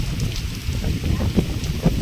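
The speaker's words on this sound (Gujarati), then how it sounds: "પવન જોરદાર છે અને વરસાદ જોરદાર છે" Strong wind and heavy rain sweep across a groundnut field, a steady rough roar of gusts buffeting the microphone with a hissing wash of rainfall underneath, close and continuous.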